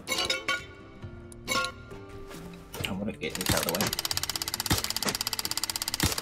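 In the survival video game Rust, a jackhammer starts up and rattles in a fast, steady, loud burst after some clinking, while a person speaks briefly before it.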